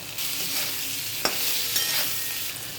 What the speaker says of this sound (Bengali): এবার এটাকে ভালো করে নেড়ে দিই।